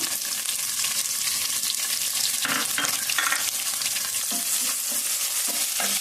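Onions and chillies frying in a pan for a tomato mutton curry give a continuous close sizzle, with scraping stirs and a few clinks from the pan throughout and no talking.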